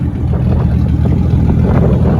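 Drift cars idle while warming up at Suzuka circuit in Japan, a loud, steady low engine rumble with a dense, throbbing texture throughout and no talking.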